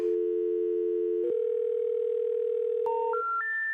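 A steady telephone dial tone holds for about three seconds, then a short click and a rising three-step sequence of tones, clear and alone with no voices.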